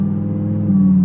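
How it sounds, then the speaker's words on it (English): A supercharged Audi R8 V10 engine hums along at low revs in a high gear, a steady mid-pitched drone with a faint supercharger whine that swells slightly toward the end of the brief moment. "I think the valves closed actually kind of accentuate the supercharger whine."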